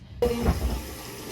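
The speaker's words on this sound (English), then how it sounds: "I'm going to be just using the sink" Water gushes from a sink tap after a brief quiet moment, a steady broadband rush filling the sink, close by and with no talking.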